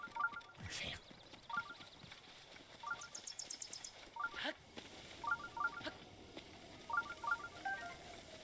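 A phone notification chirps again and again during a Zelda Breath of the Wild session, a short cluster of bright electronic beeps returning roughly every second or so against low background noise, with a faint voice now and then.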